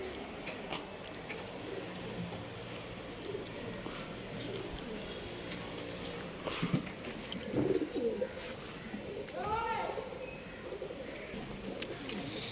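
Pigeons at a pigeon seller's loft coo softly and intermittently over a steady murmur of background noise, with a few brief chirps mixed in.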